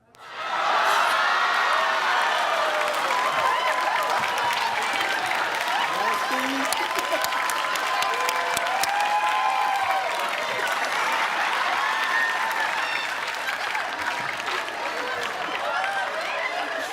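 Studio audience at a game show applauding and cheering, a dense, sustained burst of clapping with whoops that starts abruptly and holds steady at full volume, with voices mixed in.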